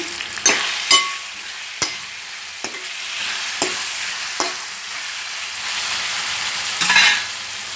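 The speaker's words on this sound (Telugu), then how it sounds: "మటన్ వేసుకొని కలుపుకోవాలండి" Mutton sizzles in a hot pan while a spoon stirs it, giving a steady frying hiss broken by a series of sharp scraping clicks and knocks against the metal, close and fairly loud.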